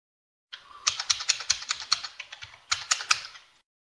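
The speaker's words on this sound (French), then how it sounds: "Qui martèle son clavier." Fast, forceful typing on a computer keyboard during a tabletop role-playing session: a dense run of sharp clicks in short bursts with a brief pause midway, close and fairly loud, with no talking.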